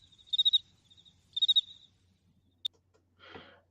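A cricket chirping effect played from a soundboard: two short bursts of high, pulsing chirps, followed by a sharp tick and a brief soft rustle, faint and alone in quiet.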